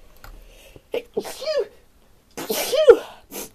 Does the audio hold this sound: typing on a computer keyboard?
no